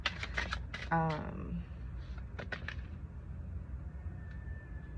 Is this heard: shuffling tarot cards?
yes